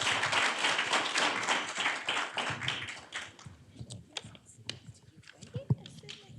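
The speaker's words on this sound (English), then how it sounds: "Please give them a round of applause, please." An audience at a Black chamber of commerce community event applauds the panel: dense clapping for about three seconds, then thinning to a few scattered claps and knocks amid quiet voices.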